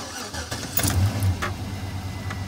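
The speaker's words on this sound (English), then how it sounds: "Then you start the truck." A pickup truck fitted with an AFM delete tool cranks and starts, its engine catching into a quiet, low idle with no loud exhaust, close by and alone.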